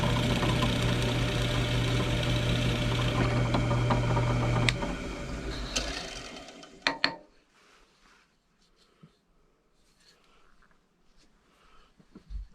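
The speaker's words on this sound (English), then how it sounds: "Now I drilled my hole about 1/4 inch deep." A power drill with a brad point bit bores a hole about a quarter inch deep into wood for a countersunk screw, a loud steady whine for several seconds that stops abruptly, leaving near silence with faint handling noises.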